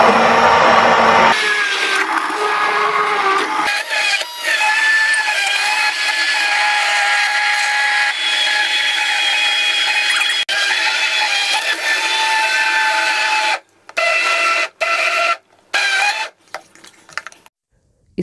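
A hand blender purees a watery cooked mixture with a loud, steady motor whine for most of the time. It then cuts off and restarts in a few short pulses near the end.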